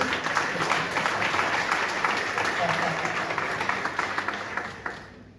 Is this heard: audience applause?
yes